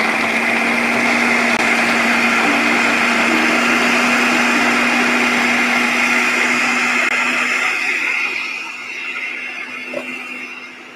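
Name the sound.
food processor blending almonds, dates and raisins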